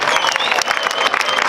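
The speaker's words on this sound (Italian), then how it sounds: "applauso forte anche giù in fondo" Applause from an outdoor audience at a Sardinian folk group's performance at Capo Comino, a dense continuous clatter of many hands, loud and steady throughout.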